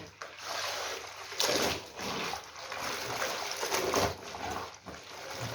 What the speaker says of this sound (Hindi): ये पानी को हमने गिरा दिया।